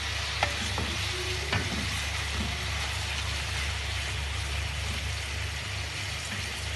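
Onions frying in a pan for chicken kabsa over a low gas flame, a dense, even sizzle heard up close and unbroken for several seconds, with a couple of faint utensil taps early on.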